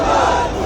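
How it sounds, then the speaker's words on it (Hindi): A crowd on a main road in the Johari Bazaar area of Jaipur at night, shouting slogans: a dense, loud wash of many voices that holds steady through the moment. "मुख्य सड़क पर भीड़, शोर और नारेबाजी"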